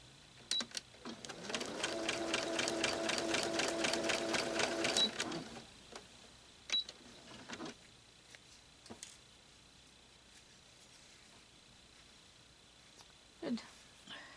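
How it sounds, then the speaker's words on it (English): A sewing machine stitches quilt pieces for a Grandmother's Garden quilt in a fast, rhythmic burst of about three seconds and then stops, followed by a few faint clicks and handling sounds. "You're going to sew right down that line and stop at the other one."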